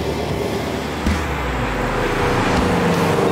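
A 2017 Ford Mustang Shelby GT350 engine drones steadily with low rumbling road noise, loud and close, rising slightly in intensity partway through as it drives along.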